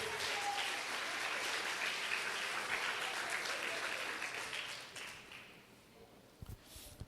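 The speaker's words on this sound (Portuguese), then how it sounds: "Você pode aplaudir o Senhor?" A church congregation applauds the Lord, a dense, moderately distant wash of clapping that holds steady and then fades out over several seconds.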